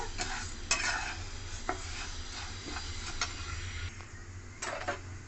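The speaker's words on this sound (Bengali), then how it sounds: "ওই কড়াইতে আমি মুগ ডাল দিয়ে দেবো। মুগ ডালটাকে আমি 2-3 মিনিট যেমন ভেজে নেব।" Mung dal dry-frying in a wok, with a soft continuous sizzle broken by sharp scraping and clicking stirs at irregular intervals, close and fairly quiet, with no voices.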